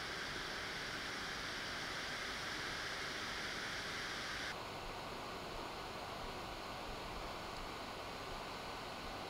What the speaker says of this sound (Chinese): 不过也需要注意啊，就是这种满载下风扇的声音也是不小的